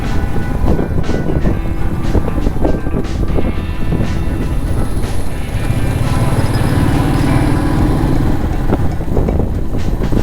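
A motorcycle cruising along an open road between Bangalore and Sakaleshpura, a steady loud engine drone mixed with rushing wind buffeting a helmet-mounted microphone, continuous for the whole stretch without talk.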